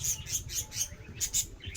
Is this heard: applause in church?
no